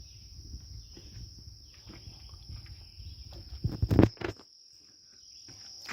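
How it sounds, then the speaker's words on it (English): Crickets chirp steadily outdoors on a summer evening, a thin continuous trill over faint low rumble, with a brief louder rustle or knock near the middle. "The crickets are out."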